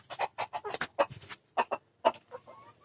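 Village hens of the native kampung breed cluck close by in short, irregular bursts with brief quiet gaps, a small flock of about six laying hens.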